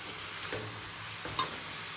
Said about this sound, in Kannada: ಚೆನ್ನಾಗಿ ಫ್ರೈ ಮಾಡೋಣ. ಆನಿಯನ್ನು ಸಾಫ್ಟ್ ಆಗಬೇಕು, ಟೊಮೆಟೊನು ಫುಲ್ಲು ಕುಕ್ ಆಗಬೇಕು.